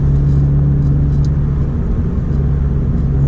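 A 10th-generation Honda Civic sport hatchback fitted with an ACT six-puck sprung clutch and flywheel drives along, giving a steady, loud low engine drone and road rumble that hold constant throughout with no talking.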